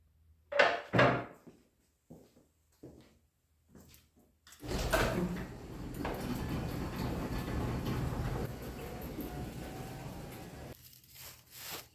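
A few soft knocks and clunks give way to a long, steady scraping rush as a workshop door slides open, fading out near the end.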